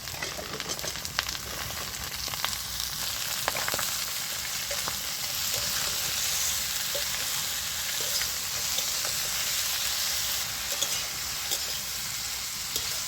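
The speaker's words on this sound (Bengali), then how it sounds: "এইবারে আমি কেটে রাখা আলু আর বেগুনটা দিয়ে দিচ্ছি" Cut potato and eggplant frying in fish oil, a dense crackling sizzle that holds steady the whole time with occasional stirring clinks, loud and close, with no voices.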